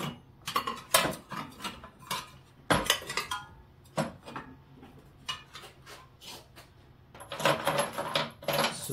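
Metal bolts in a box clatter and jingle as hands rummage through them, bursts of bright clinking and rattling that come and go, close and fairly loud, while parts are hunted for a G-Body Cutlass radiator upgrade.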